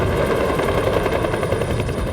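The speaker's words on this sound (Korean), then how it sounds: "이 계획대로 경찰 헬기는 공장과 시위대 위를 저공 비행하며 파업 노조원들을 위협했습니다." A police helicopter flies low over the striking Ssangyong Motor factory and protesters, its rotor producing a loud, steady, rhythmic thudding roar that fills the whole stretch without any talk.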